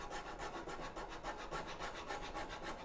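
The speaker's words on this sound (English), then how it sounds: "I've got the model maker's rasp, which also seems to be the perfect curvature for this stuff" A model maker's rasp is drawn back and forth across wood, making a rhythmic rough scraping with about a dozen quick, even strokes, close and soft, with no talking.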